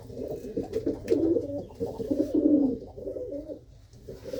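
Several pigeons kept for sale coo continuously nearby, overlapping low, rolling calls in a steady chorus with no talking.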